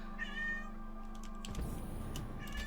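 A kitten meowing, with one drawn-out, wavering meow near the start and a shorter one at the end. Both sound fairly close over a steady low hum and background noise.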